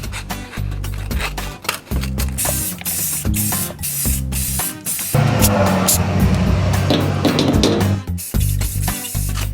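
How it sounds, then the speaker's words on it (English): An aerosol can of clear coat hisses in repeated close bursts on Miata interior parts, with a longer continuous spray in the middle and rattling handling noises between. "So it's going to take a few minutes of clear coating both of them."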